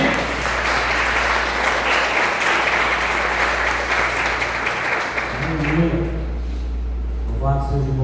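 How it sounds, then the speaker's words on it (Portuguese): A church congregation applauds during an evening service, a thick continuous wash of clapping with a steady low hum underneath that dies down near the end as a voice begins speaking. "Aplauda o Senhor nessa noite em nome de Jesus."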